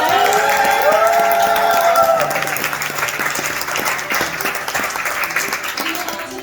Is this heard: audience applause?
yes